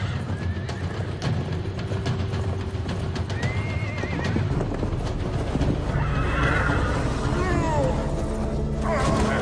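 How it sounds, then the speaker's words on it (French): Wild horses neigh and whinny repeatedly over a dense rumble of galloping hooves, the herd loud and close with several overlapping calls, under a steady wash of noise. "attraper des chevaux sauvages"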